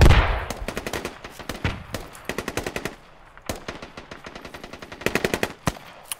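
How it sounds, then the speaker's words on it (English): Gunfire in the military shooter game Squad: repeated bursts of rapid automatic shots, some nearer and louder, others quieter, with short gaps between bursts and no talk over them. "Shooting shots from 330 on the hill."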